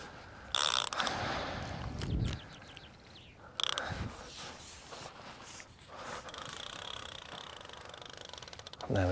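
A fishing reel's ratchet clicks in quick mechanical runs while fishing for smooth hound in the Bristol Channel. The clicking is close and comes in several bursts, with some talk in the background.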